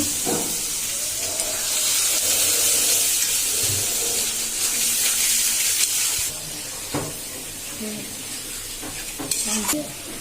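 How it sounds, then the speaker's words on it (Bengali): Water poured into a hot pot while cooking biryani, a loud broad rush of hissing and sizzling for several seconds, followed by quieter stirring clinks. "একটু পানি দেব।"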